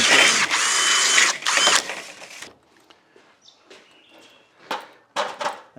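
Power drill pre-drilling a garage door seal: a couple of short, loud whirring bursts, followed by quieter clicks and handling knocks.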